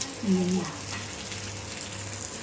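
Fish frying in a pan gives a soft, steady sizzle in the background, with a short voiced sound near the start and a low hum underneath.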